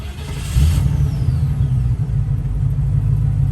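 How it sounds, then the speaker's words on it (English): A Land Rover Defender 90 50th Anniversary with a 5.0 V8 fires up and settles into a steady, deep idle rumble, close and continuous, with twin electric cooling fans whirring in the background. "Starts nicely, settles down to a nice idle"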